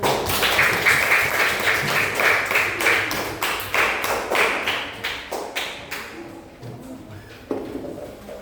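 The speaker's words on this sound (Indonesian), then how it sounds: "Tepuk tangan untuk teman-teman." Children in a classroom clapping together, a rapid rhythmic run of claps that starts loud and gradually thins out, with faint voices mixed in.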